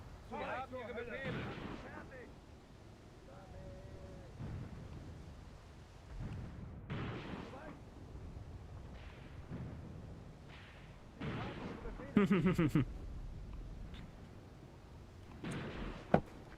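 Rifle and artillery fire from a WW2 Eastern Front winter defense battle game, with repeated booming blasts and crackling shots at a distance beneath ongoing commentary and voices.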